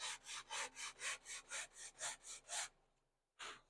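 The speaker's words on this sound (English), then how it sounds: "you just rub it across some sandpaper." A wooden hand plane part, a hemlock test plane, rubbed back and forth across sandpaper in about ten steady, evenly spaced gritty strokes, close and alone, with a short pause before one more stroke.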